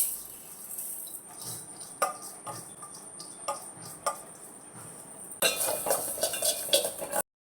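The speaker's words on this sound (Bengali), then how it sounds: "সবার প্রথমে মুগ ডালটাকে ভেজে নেব।" Moong dal being dry-fried in a pot while a metal spoon stirs it, scattered scraping clinks and taps over a faint sizzle, livelier toward the end.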